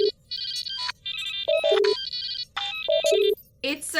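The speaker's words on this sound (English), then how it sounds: "It's a ringtone," A phone ringtone plays a bright electronic melody of rapid high beeps and lower tones in repeating bursts, loud and close, indoors.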